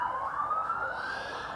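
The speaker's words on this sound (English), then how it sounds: "You probably can hear the ambulance outside or fire truck or whatever it is" An emergency siren, an ambulance or fire truck on the streets of central Melbourne, wails steadily outdoors in a continuous rising tone, moderately loud and heard from indoors with no talking.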